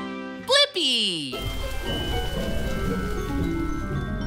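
Steady rainfall patters outdoors after a brief musical jingle and chime, a dense, even hiss of drops filling the rest of the clip, fairly loud and close.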